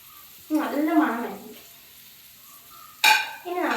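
A spatula stirs egg masala, made with eggs slit down the middle, in a sizzling pan. Two loud bursts of scraping and frying come up close, separated by a quieter pause.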